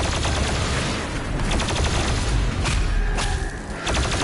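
Combat in Doom Eternal, where an Ice Bomb is fired, brings dense, loud, continuous gunfire, booms and whooshing blasts, with rapid repeated hits layered over one another.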